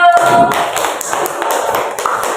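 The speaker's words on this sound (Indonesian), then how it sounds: "Tepuk tangan untuk kelompok satu" Loud, close clapping from a small group of students in a classroom, brisk and continuous, with a brief tone at the start.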